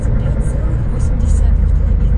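A truck cab carries a steady low engine and road drone while driving toward Pervouralsk, with faint higher tones above a constant rumble.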